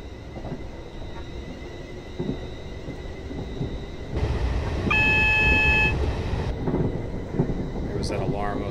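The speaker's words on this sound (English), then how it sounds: "That alarm I was talking about going off," An in-cab speed alarm sounds aboard a Class 444 electric multiple unit on the Portsmouth Direct Line in Train Simulator 2015, a steady electronic tone lasting about two seconds over loud rumbling train motion.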